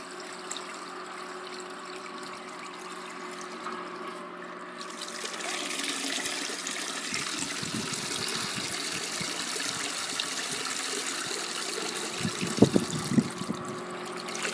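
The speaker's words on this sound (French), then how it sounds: "Donc elle est assez lourde parce qu'elle est pleine d'eau. Je laisse sortir de l'eau." Water trickles and splashes out of a heavy, water-filled pool filter sock, a steady close dribble that grows louder and fuller after a few seconds, with a few sharper splashes near the end.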